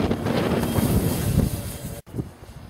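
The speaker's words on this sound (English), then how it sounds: "It's too windy." Strong gusts buffeting a microphone at an RC model airplane field, a loud, uneven rumble that swells and dips, cuts out briefly near the end, then returns more faintly.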